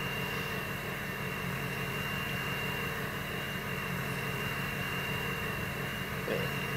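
A turbo jet engine in a video game spins up into a loud, constant roaring hiss with a steady whine on top, filling the whole stretch with no talking.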